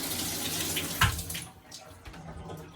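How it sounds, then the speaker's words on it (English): Tap water runs in a steady hiss as it flushes through a trombone mouthpiece, close and fairly loud, with a brief splash near the middle before the flow softens. "Turn on some water."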